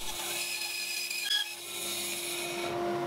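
Mini bandsaw blade cutting a wooden pug shape from a board, giving a steady, close raspy whine with a constant motor hum underneath and a brief dip in the cut partway through.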